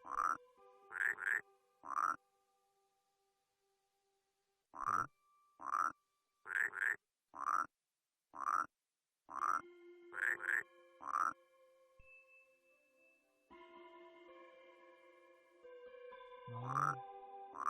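Frog croaking in the video game Rusty Lake Paradise comes as a run of short, crisp calls in uneven clusters with brief gaps. Faint game music holds underneath, then swells with a rising tone near the end.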